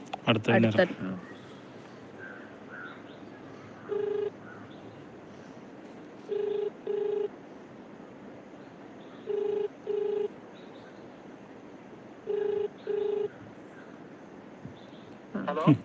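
A phone call rings out over the line after dialing to reach a contest winner, the ringback tone sounding in evenly spaced double pulses, clear and steady against a quiet background with a brief voice at the start and end.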